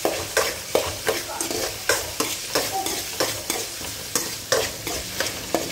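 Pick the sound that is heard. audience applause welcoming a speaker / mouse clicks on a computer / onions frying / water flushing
onions frying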